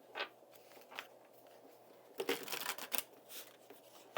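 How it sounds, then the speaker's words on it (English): Tarot cards being shuffled, with scattered soft riffles early on and a denser run of card flutters and snaps in the second half, close and quiet. "And then you have your tarot cards."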